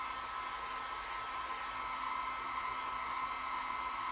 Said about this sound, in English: now I'm using a hair dryer on a cool setting